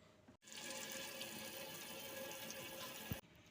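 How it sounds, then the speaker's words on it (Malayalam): Running water used to clean an aquarium, a steady tap stream that starts abruptly, splashes evenly for about three seconds, then cuts off. "ഇനി നമുക്കൊന്ന് വെള്ളം വെച്ച് ക്ലീൻ ചെയ്തെടുക്കാം."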